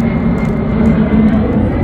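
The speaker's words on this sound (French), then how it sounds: "l'avion" A fixed-wing airplane passes overhead on a summer evening in Paris, a loud, steady engine roar filling the whole moment with no talking.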